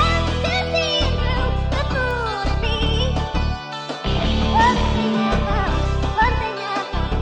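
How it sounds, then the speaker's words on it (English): A beat remake stripped of drums plays bass, guitar and piano together, a full melodic loop with deep sustained bass notes that drop out in short breaks, steady and prominent with no speech. "So if I play you the entire remake just without drums, it's going to sound like this."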